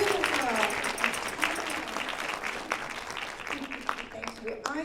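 An evening pageant audience claps in a warm, sustained round of applause with scattered cheers and voices rising through it, steady for several seconds.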